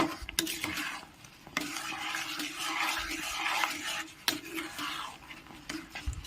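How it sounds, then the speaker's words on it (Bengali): A spoon scrapes and stirs semolina around a hot pan to dry it, making repeated close scraping strokes with light clinks over a faint sizzle, with no talking. "এইভাবে বারবার নেড়ে চেড়ে একদম শুকনো করে নেব।"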